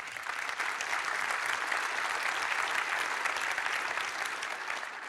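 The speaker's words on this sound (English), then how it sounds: "Round of applause." A conference audience claps steadily for panelists after a railway signalling session, the dense applause continuing evenly and moderately loud throughout with no talk over it.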